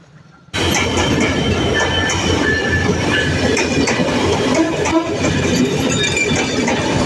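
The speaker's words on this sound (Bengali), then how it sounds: "তো আমাদের ট্রেনটি কিন্তু চলে আসলো কুষ্টিয়া কোর্ট রেল স্টেশনে" The Benapole Express rolls into Kushtia Court railway station in Bangladesh. After a brief quiet moment, a loud, close rumble of wheels and carriages begins, with rhythmic clatter and occasional squeals that continue to the end.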